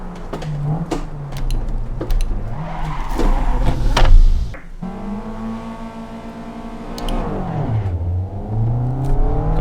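A race car engine in the Assetto Corsa sim racing game revs hard through upshifts and downshifts, its pitch climbing and dropping steadily, with brief tire squeals and other cars passing close by.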